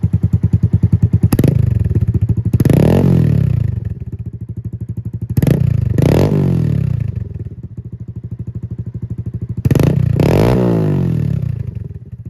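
A Honda Grom motorcycle fitted with an aftermarket Amazon exhaust runs loud and close, with a rhythmic idle broken by several sharp throttle blips that rise and fall in pitch.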